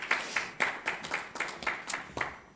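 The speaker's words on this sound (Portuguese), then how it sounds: "Peço também uma salva de palmas." Sparse clapping from a small audience at a Portuguese cultural and creative industry summit panel, about eight or nine distinct, fairly close claps in a loose uneven rhythm.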